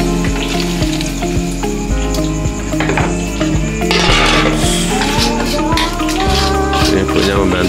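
An egg fries in a wok for Javanese fried noodles at a street stall, giving a loud continuous sizzle broken by scraping and clanks of a metal spatula against the pan.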